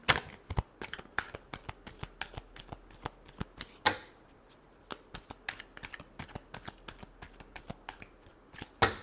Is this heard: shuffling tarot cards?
yes